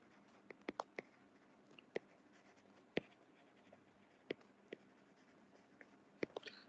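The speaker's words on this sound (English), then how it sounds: "I hope you will not mind my typing." Someone types on a keyboard with sparse, irregular keystrokes. The clicks are faint and close against a quiet background.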